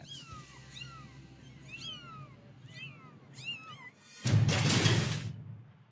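Several high, rising kitten meows repeat one after another, then a burst of loud rustling noise near the end.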